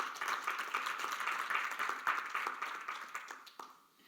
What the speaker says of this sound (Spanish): Bueno, dale un aplauso al Señor.